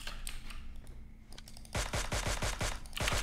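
Gunfire in PUBG Mobile: a few scattered distant shots give way to a rapid automatic burst of sharp, evenly spaced cracks that continues to the end, with no talking.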